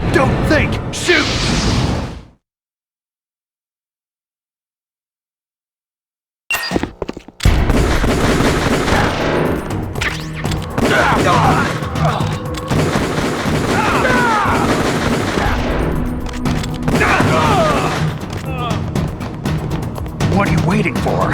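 Gunfire and explosive booms in Metal Gear Solid: The Twin Snakes, loud and dense after a brief silent gap, a continuous barrage of shots and crashes mixed with game music and voices.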